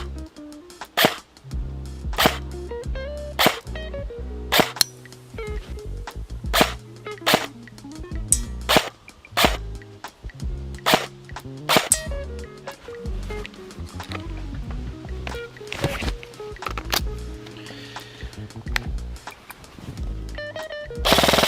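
Airsoft Well WE01A PCC firing 0.30 BBs at a small target at range, a series of sharp snapping shots spaced irregularly, some in quick pairs, loud and close with no talk.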